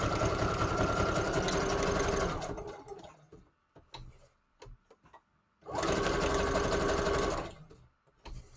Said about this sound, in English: so let's do the zigzag stitch